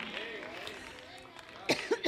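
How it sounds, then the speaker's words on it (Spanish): Several people cough in a small gathering at an evening Bible study, a few short rough bursts close together near the end after quieter murmuring. "aquí parecemos un coro de toses"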